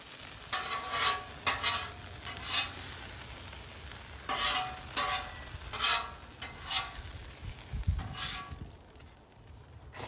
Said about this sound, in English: I'm going to take and scrape this down a little bit.